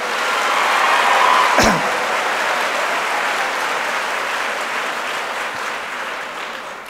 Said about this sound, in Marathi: पुन्हा स्वतःसाठी एकदा जोरदार टाळ्या द्या